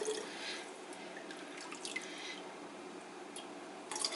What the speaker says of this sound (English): And I'm just going to fill the container with the turkey stock.